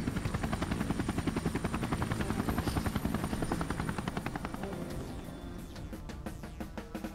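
Helicopter rotor in the Android game Outburst Academy, a steady rapid chopping thud that stays loud and close before thinning slightly toward the end, with no talk over it.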